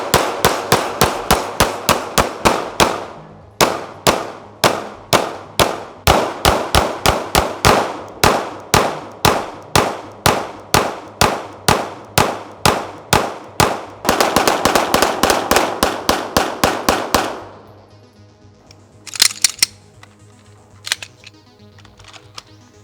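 Loud Glock pistol gunshots fire at a shooting range in rapid strings of sharp cracks, with brief pauses between volleys before the shooting stops near the end.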